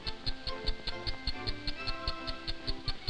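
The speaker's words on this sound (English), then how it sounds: "The watch is clamped to a microphone which amplifies its ticking." A mechanical wristwatch clamped to a microphone ticks loudly and evenly, a steady rapid train of sharp amplified clicks with no other sounds around it.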